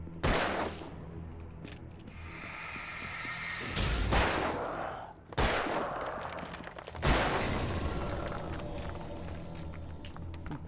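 Gunfire in the horror video game Alan Wake, repeated booming shots and bursts at irregular intervals over about ten seconds, loud against a quieter eerie game background.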